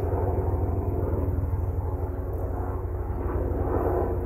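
A helicopter passes overhead near a beehive, a steady, loud low rotor and engine rumble with a rapid pulsing beat that holds constant throughout.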